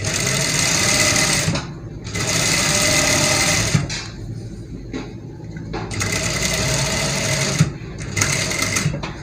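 Sewing machine stitching a fabric neck design with fusing, loud close whirring bursts of rapid stitching separated by short pauses where the needle stops.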